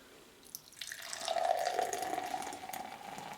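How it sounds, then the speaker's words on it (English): Drop Kick Ale from Weston Brewing Company is poured into a glass, a soft liquid stream starting after a faint clink and building into a steady, close gurgling fill. "Let's get a little pour here."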